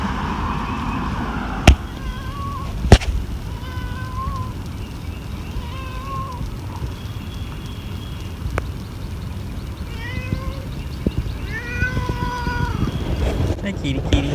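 A cat meows repeatedly, several short mewing calls at moderate distance over a constant outdoor background rumble, with a couple of sharp knocks early on.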